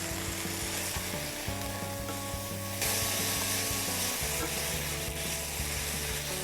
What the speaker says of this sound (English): pork is starting to cook. You can see as it's turning white